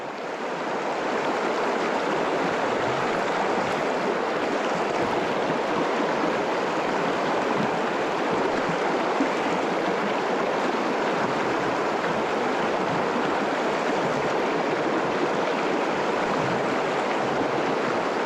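Pocket water in a rocky river rushing and tumbling over stones, a steady, loud, close broadband wash that holds unbroken throughout with no voices.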